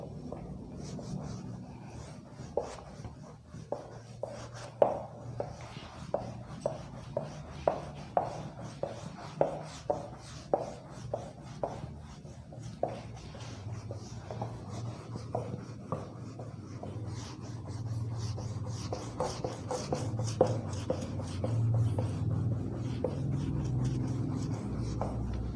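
Chalk or marker writing and rubbing on a classroom board during a biology lesson, a run of sharp regular taps and strokes early on, then a steadier scraping rub, no talking.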